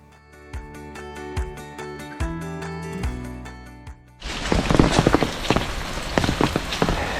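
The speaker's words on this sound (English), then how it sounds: "So it's raining" Steady hissing rain pours down on a mountain trail in Sidrabong, Darjeeling, entering suddenly and loudly after a few seconds of gentle instrumental music, with a dense, crackling wash that carries on to the end.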